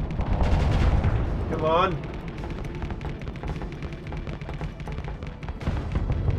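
Ship weapons fire in a space combat video game, continuous rumbling gunfire and booms with a rising sweep, played under a voice speaking.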